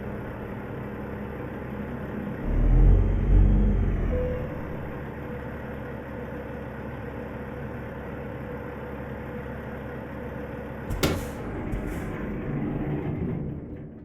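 A truck engine in American Truck Simulator idles with a low, steady rumble, a heavier surge early on and a sharp clank near the end.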